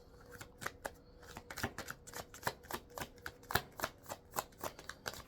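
Tarot cards being shuffled by hand before a draw: a steady run of crisp, papery riffles and snaps, close and fairly loud, repeating rapidly with no voices.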